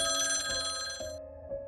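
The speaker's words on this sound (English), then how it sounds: "During this time, Lily's phone rang." A telephone ringing with a bright, steady electronic bell tone that holds and then thins, close and clear, with no talking.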